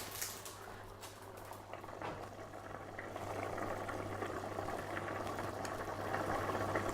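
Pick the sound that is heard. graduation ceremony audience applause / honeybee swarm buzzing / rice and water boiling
rice and water boiling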